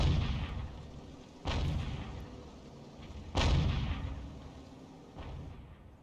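SU-122 tank gun in a combat video game: two heavy booming cannon shots a couple of seconds apart, each with a long rolling decay, and a fainter third blast near the end, all without speech.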